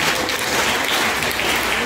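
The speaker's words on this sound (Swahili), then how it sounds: "Makofi kwake." Steady applause from a church congregation during a Catholic Ascension Day sermon, dense and continuous clapping filling the room for the whole stretch at even loudness.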